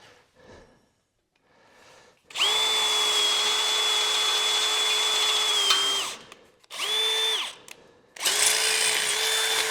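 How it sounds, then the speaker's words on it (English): A power drill spins up with a high steady whine for several seconds, stops, then runs in two shorter bursts, close and clear, drilling a tap hole for a 1/4-20 tap. "now I'll put on my drill appropriate for the 1/4 20 tap"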